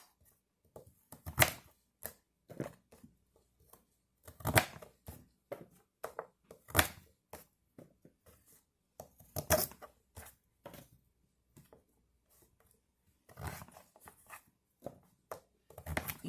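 A knife cutting through raw sweet potato on a board, irregular dull chops and crunching thuds with scraping between, close and fairly quiet, scattered over a longer stretch with pauses.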